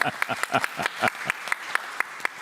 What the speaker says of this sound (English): Round of applause, loudest wins.